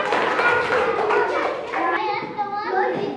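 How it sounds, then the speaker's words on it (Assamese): A group of children claps hands together in a classroom game, a dense burst of applause mixed with chattering young voices that thins out after a couple of seconds. "হাত তালি দিয়া সাজিনাৰ কাৰণে"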